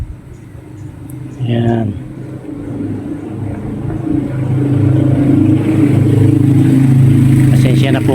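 Road traffic rumbling beside a street, with vehicles passing and building to a louder, steady roar, while a person speaks briefly over it.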